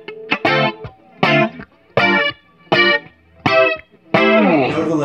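Electric guitar through compression and an Electric Mistress flanger, loud close chord stabs in a choppy rhythm with short gaps, ending on a longer ringing chord with a swirling sweep.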